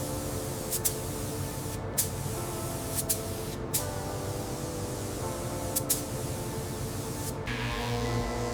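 An HVLP spray gun lays deep gloss black paint on a 1966 Harley-Davidson Shovelhead FLH part in slow, overlapping passes, a soft, steady hiss broken by short bursts and pauses between strokes.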